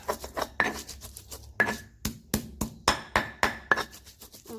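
Repeated pounding of spices with a mortar and pestle while preparing young bamboo shoot vegetables in coconut milk: sharp, close knocks in an uneven rhythm, roughly a dozen hard strikes with softer grinding scrapes between them, no talking.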